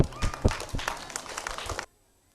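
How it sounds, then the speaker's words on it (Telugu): A group of schoolchildren claps for the winner of a round in a game, a brief lively burst of uneven claps lasting under two seconds before stopping abruptly. "క్లాప్స్."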